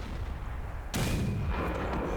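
A single heavy artillery blast from a tank game, booming suddenly after a quiet stretch of engine rumble and trailing off in a rolling echo, with no talk.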